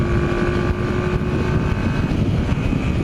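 A 1981 Yamaha XS400 motorcycle being ridden, its engine holding a steady, loud drone mixed with wind rush over the microphone, unbroken for a few seconds with no speech.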